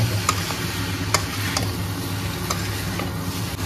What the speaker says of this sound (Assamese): এতিয়া আকৌ লৰাই বগাই দিম